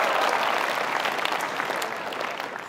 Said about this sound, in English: Don't clap yet, I might suck.